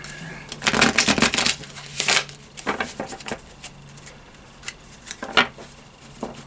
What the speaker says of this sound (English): I managed to split shuffle for the very first time.